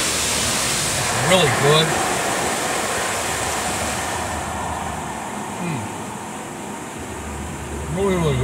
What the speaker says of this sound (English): as we're going through and doing a car wash